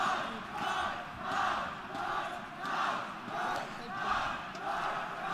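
A large indoor esports arena crowd at a CS:GO grand final roars and cheers in steady rising and falling waves, swelling roughly every second or so, with no clear speech over it.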